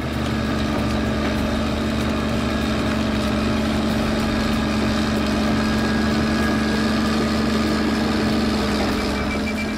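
A heavy diesel bulldozer engine runs steadily at idle, a constant deep rumble that stays loud and unchanging throughout with no voices.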